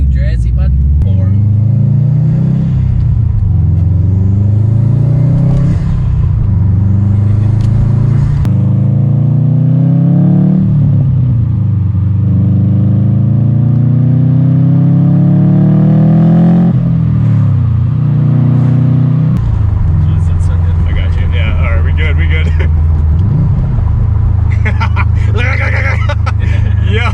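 A Subaru Stage 2 STI engine revs loudly while driving, rising in pitch as it pulls through the gears and dropping back on each shift, with people talking inside the car.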